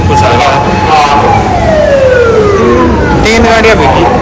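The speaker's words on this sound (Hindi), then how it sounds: "देखते देखते एम्बुलेंस फायर ब्रिगेड सब कुछ आ गया।" Ambulance and fire engine sirens wail at a road accident scene in Japan, their sliding tones sweeping down and overlapping loud and continuous over traffic noise.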